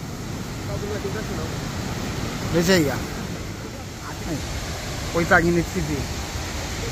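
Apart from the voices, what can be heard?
waterfall after heavy rain, Cachoeira do Urubu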